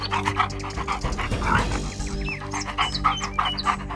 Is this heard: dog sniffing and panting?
yes